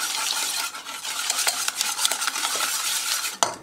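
Lemon cake batter with lemon juice and melted butter being stirred in a bowl, a close, continuous scraping and swishing with quick utensil clicks and a sharper knock near the end.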